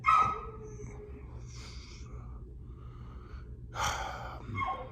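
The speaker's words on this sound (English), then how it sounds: "Excuse my dog." A dog barks close by, one sharp bark at the start and another pair near the end, with panting breaths in between against quiet room noise.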